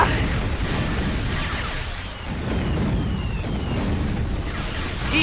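Continuous roaring missile explosions from the Jets'n'Guns shooter game, a dense unbroken wash of blasts and bursts that briefly dips mid-way, with no voice heard.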